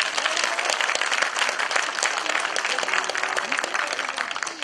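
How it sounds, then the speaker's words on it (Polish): Audience applauding singing seniors at the Śpiewający Seniorzy 2017 contest: dense, steady clapping from a full room that holds at an even loudness for several seconds, with no voices on top. "Duże brawa dla was, kochani."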